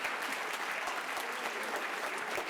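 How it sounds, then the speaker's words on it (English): Audience applause for soloists at a fall school concert, with many hands clapping in a dense, even roar. Individual claps show up now and then through the steady, moderately loud wash. "How about another round of applause for the soloists in there first?"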